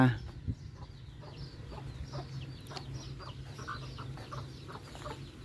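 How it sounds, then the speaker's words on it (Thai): Chickens cluck intermittently at a mother's rural home in Thailand, soft scattered calls at moderate distance over a low constant background, with faint talk present. "ไก่คุณ แม่"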